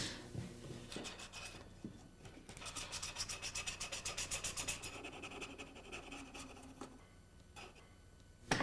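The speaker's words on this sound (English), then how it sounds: "Sandpaper on a block and on a dowel." Steady rhythmic rubbing of sandpaper wrapped on a wooden dowel, sharpening an edge tool with quick back-and-forth strokes, close and fairly quiet.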